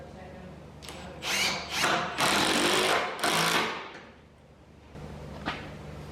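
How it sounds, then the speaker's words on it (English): A power driver sinks bronze screws into wooden laminations on a large boat build. It makes several loud whirring bursts in quick succession, each winding up and stopping, followed by quieter handling noise. A brief spoken word is also heard. "Pinning with bronze screws."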